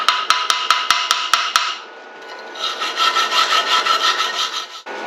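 A chipping hammer taps rapidly at weld slag from a HZXVOGEN 130A MIG welder in a quick even series, then gives way to a loud continuous rasping, grinding noise.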